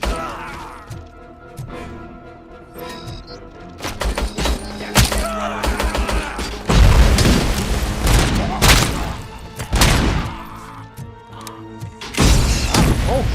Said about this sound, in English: was that a grenade?